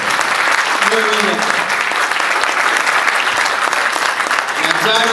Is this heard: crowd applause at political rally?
yes